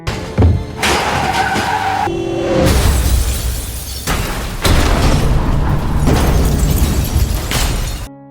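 A car skids with a long tyre screech and then crashes with loud impacts and breaking glass, all loud and close with no speech.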